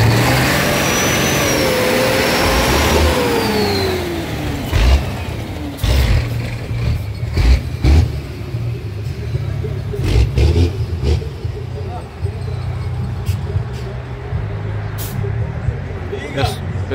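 Drag racing truck being tuned, its big engine revving up and down in loud repeated bursts and throttle blips, close by, with people talking over it.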